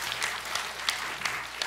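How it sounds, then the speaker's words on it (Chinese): Audience applause at an annual conference, thanking a Renmin University Affiliated High School vice principal after his speech and Q&A, soft and steady, with a few louder claps standing out and no talk over it. "让我们再次掌声感谢周校长的精彩演讲和大家的尖锐问题"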